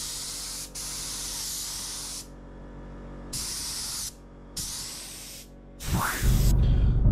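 A paint spray gun coating a car in a home garage makes loud bursts of hissing spray that start and stop several times with short silent pauses. A deeper, rougher rush closes out the final seconds.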